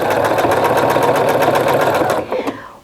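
A sewing machine stitches a wide binding onto a large quilt, its rapid mechanical hum running loud and steady before slowing and stopping near the end.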